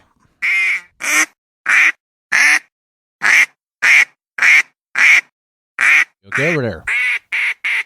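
A duck quacks in a quick series of about a dozen loud, evenly spaced bursts, with a voice speaking briefly among them.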